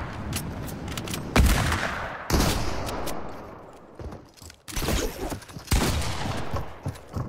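Hunting rifle shots in the Fortnite video game hit as several loud, sharp cracks, each followed by a rumbling tail, over continuous busy game noise.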